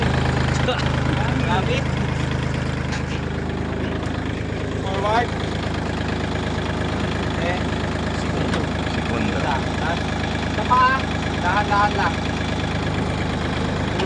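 A 4WD tractor engine idles with a steady mid-low drone and slight knocking, continuous and fairly close, while an instructor speaks over it at a training center.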